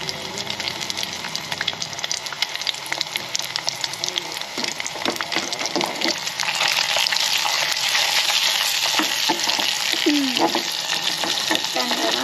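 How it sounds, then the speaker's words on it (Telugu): Eggs fry in a pan with steady crackling sizzle and spatter that grows louder and denser halfway through, accompanied by scraping and stirring noises, with a voice speaking briefly underneath. "గుడ్లు ఫ్రై చేసే పరిస్థితి అన్నమాట"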